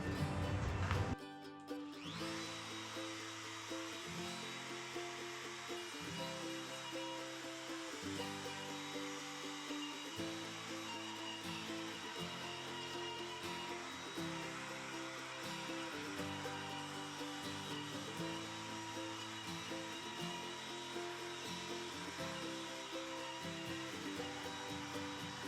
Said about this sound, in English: I'll router all this off